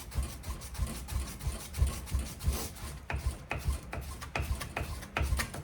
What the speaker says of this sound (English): stand here sanding on this all day long